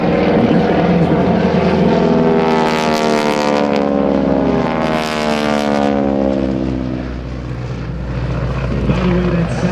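Pratt & Whitney 600 horsepower radial engines on a GEICO Skytypers plane at an airshow drone loudly as Hamilton Standard propeller tips go supersonic, a rasping buzz rising and falling in pitch as the aircraft passes close by, with someone talking over it.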